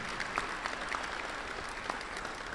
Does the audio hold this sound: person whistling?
no